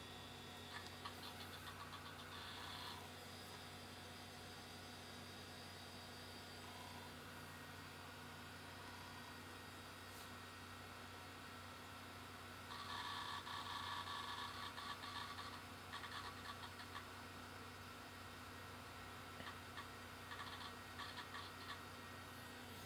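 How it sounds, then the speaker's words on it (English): Cooling fans in an FM Towns II computer running as a steady, faint mechanical hum with a constant tonal whine, and slight shifts in the noise partway through. "fans be spinning, so the board definitely works"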